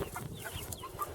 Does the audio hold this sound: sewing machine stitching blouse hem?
no